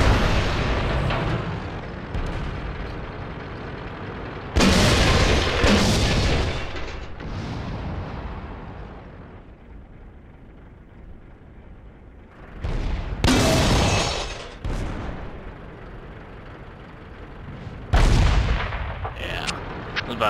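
Artillery firing in the World of Tanks video game: three loud, heavy booms spaced several seconds apart, each trailing off into a long rumbling decay over quieter battle ambience.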